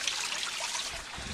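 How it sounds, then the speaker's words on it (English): A small waterfall trickles and splashes in a quiet outdoor spot, a soft, steady wash of running water heard alone for a brief moment. "look, there is a little waterfall."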